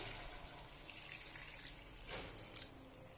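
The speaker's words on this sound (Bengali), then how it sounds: "এখানে আমি গরম জল দিয়ে দেব" Hot water pours and trickles into a pan of Bengali fish curry with potatoes and lentil dumplings, a faint, steady liquid splash close by.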